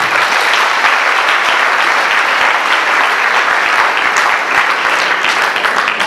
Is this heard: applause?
yes